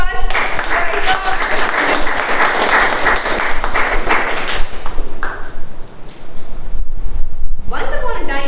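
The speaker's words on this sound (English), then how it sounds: "A huge round of applause for all of us." A roomful of people at a Toastmasters club meeting breaks into sustained, loud clapping that dips briefly before a voice starts speaking near the end.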